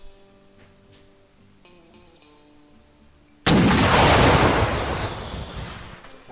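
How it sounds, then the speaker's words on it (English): A cannon fires in the Mount & Blade Warband Civil War mod game: after quiet tones, a single loud booming blast erupts suddenly and rolls on as a long, noisy rumble that slowly fades. "Unfortunately, took out 2 men with that cannonball."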